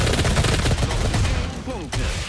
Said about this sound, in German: Das war wieder ein sehr präziser Schuss von dem Sniper da.